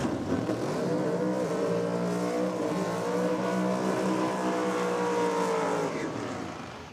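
A Chevy Nova drag car with a 598 cubic inch Dart engine roars past at a drag race, one loud sustained engine wail rising and falling in pitch, then fading slightly at the end.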